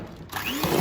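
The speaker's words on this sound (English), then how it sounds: "A whisk." An electric whisk starts up in chocolate cake batter with eggs and whirs steadily and loudly, close by, for under a second.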